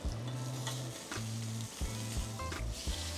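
Ribeye steak sizzling hard in a hot pan on high heat just after being flipped, a dense continuous crackle and hiss with a few louder spits and pops, close and alone.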